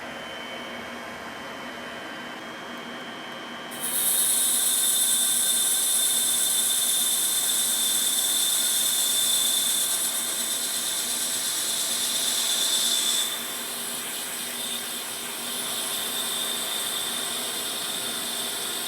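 An Okuma CNC lathe starts an automatic cycle with a sudden loud, steady high-pitched whine and hiss over a low hum, holding constant, then easing slightly in level before continuing.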